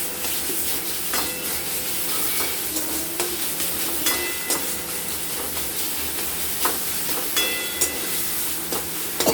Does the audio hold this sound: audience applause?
no